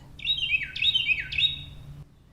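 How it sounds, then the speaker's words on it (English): Three repeated bird calls, each a bright descending chirpy phrase, ring out clearly in an outdoor garden over a low steady hum, then stop abruptly. "Can anybody identify that bird call?"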